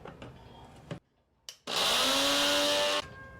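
A blender crushing a peanut chaat mixture of peanuts, turmeric, water and lemon juice, roaring at a steady whine for about a second and a half after a few short bursts and a brief pause.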